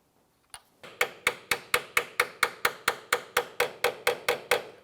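A 3/8 inch wrench tapped onto the hexagon of a rusty ball joint on a 2005-2007 Ford 500 control arm: after two lone knocks, a quick even run of about fifteen sharp metallic taps, close and loud, with no talking.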